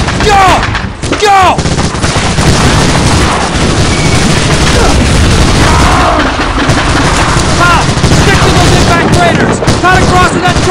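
Dense gunfire and explosions in the Medal of Honor: Allied Assault Omaha Beach D-Day battle, a loud, continuous barrage of rifle and machine-gun fire with booming blasts and shouting soldiers mixed in.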